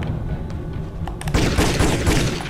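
Gunfire in the action game Jet Li: Rise to Honor, a dense burst of shots that swells into a loud sustained volley during the final second, with no voices over it.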